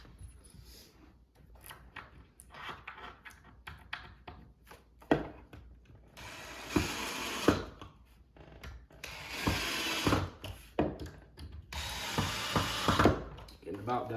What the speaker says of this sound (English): Install our screws here.